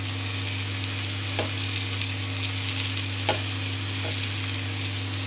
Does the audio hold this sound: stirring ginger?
yes